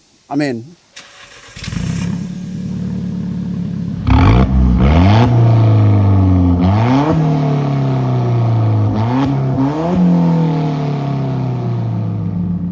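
An Alfa Romeo 4C engine starts: a brief starter whir catches into a gruff, loud idle, then several sharp revs rise and fall in quick succession close by.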